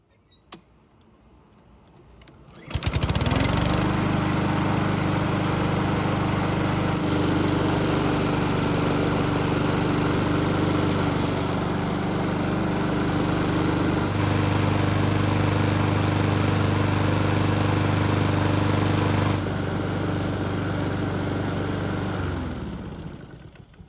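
A Honda lawn mower engine, freshly fitted with a cleaned and lubricated recoil starter, fires up after a brief pull and settles into a loud, steady running drone with a slight pitch change midway, then winds down.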